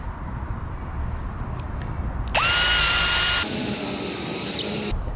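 A power drill spins up sharply and runs at high speed for a few seconds, rising in pitch once, then stops over a steady background hum.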